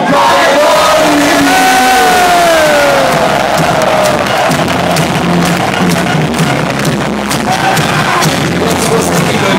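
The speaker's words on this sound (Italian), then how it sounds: "Signore e signori, facciamogli un grandissimo applauso, lui è Tony Cairoli!" Large outdoor crowd at a Red Bull X-Fighters freestyle motocross event in Rome roars and cheers loudly and continuously, a dense wash of voices with shouts and whistles rising over it.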